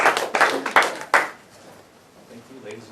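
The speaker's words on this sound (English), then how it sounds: "So let's give a big round of applause right now." An audience claps at a talk by an animator: a few loud, separate claps in the first second or so, then a quieter room as the applause dies away.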